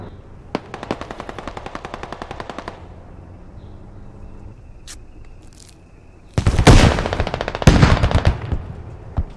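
Rapid bursts of video game machine gun fire, with a long sustained volley, a pause and then louder, denser close-range bursts that crackle and echo.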